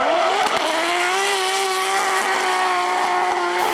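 A BMW E92 M3 drifting with a swapped Skyline engine screams at high revs, tires squealing continuously through a loud, sustained run with no pause.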